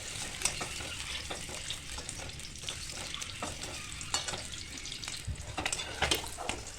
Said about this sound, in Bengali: এবার ওই তেলেই আমি ডিমগুলোকে হালকা করে ভেজে নেবো।